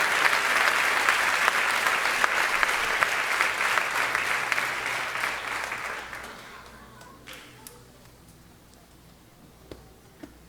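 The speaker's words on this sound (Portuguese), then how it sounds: "Você pode dar um aplauso ao Senhor." A church congregation at a congress breaks into sustained, loud applause that gradually fades after about six seconds, leaving a few scattered claps in a quieter room.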